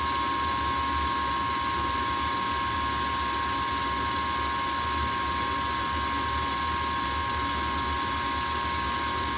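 A Rheem gas furnace with a newly replaced hot surface igniter runs with a steady, loud mechanical hum and a constant whine. The sound is close, even and unbroken, with no pauses, and no one speaks.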